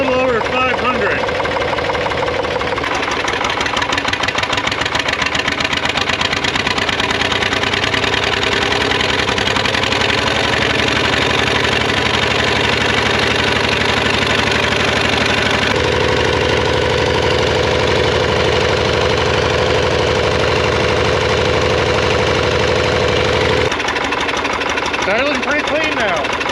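An air-cooled Lister diesel engine idles at a little over 500 RPM, a loud, steady rhythmic knocking chug close by that carries on throughout, with brief talk over it.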